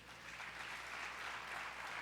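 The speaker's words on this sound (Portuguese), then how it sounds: "Dá um aplauso ao Senhor aí." A church congregation applauds steadily, a dense, even patter of clapping that holds at one level throughout.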